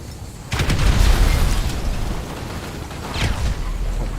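A grenade explodes in Grand Theft Auto V Online gameplay, a loud booming blast with a rumbling tail followed by a second lighter burst, with no talking.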